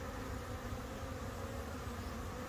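Bees humming steadily at a hive, a dense continuous buzz from many insects with no talking over it.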